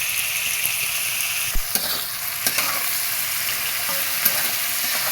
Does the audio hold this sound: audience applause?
no